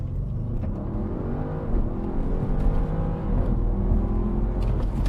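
An Audi RS7 accelerating hard in dynamic driving mode, a loud steady engine roar heard from inside the cabin that climbs and shifts in pitch through the gears, with no talk.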